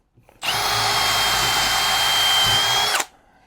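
A DeWalt power drill with a metal bit bores into whisky barrel wood, a loud steady high whine that holds for about two and a half seconds before stopping abruptly, close up with no speech.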